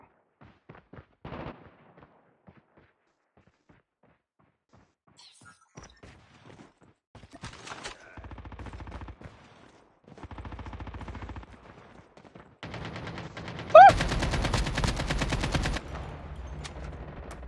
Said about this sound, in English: The shotgun shots. I'm getting shot.